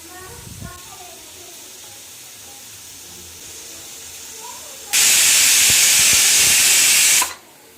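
Pressure cooker whistle on the stove while green chicken biryani cooks: after quiet kitchen sounds and a voice, a loud, steady hissing whistle bursts in and holds for over two seconds, then cuts off abruptly.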